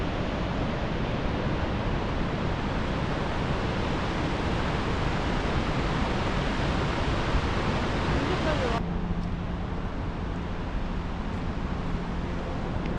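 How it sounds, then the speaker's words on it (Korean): A continuous, heavy roar of Victoria Falls seen from the Zambian side, broad and unbroken like rushing wind and water, with the tone thinning slightly near the end. "확실히 빅토리아 폭포가 세계에서 제일 큰 폭포인 것 같습니다"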